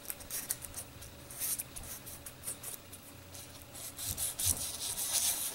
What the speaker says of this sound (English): I'll scuff up the surface of the metal like this with this sandpaper